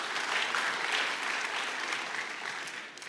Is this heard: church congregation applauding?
yes